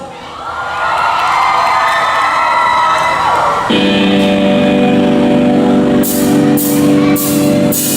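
A live comedy audience in Chiang Mai bursts into loud, sustained cheering and applause, a dense crowd roar that shifts midway and carries on to the end.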